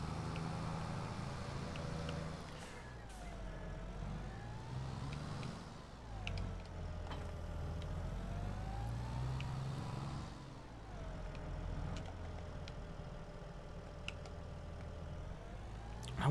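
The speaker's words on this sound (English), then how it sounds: "Oh, I like the sound of this tractor." Tractor engine in the Farming Simulator 22 video game, a steady low drone that rises and falls with throttle changes over the whole stretch, fairly close and continuous with no talk.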